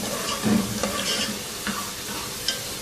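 Onions frying golden in a pot for Pakistani chicken pulao, a steady close sizzle with occasional stirring scrapes and soft clinks, no voices.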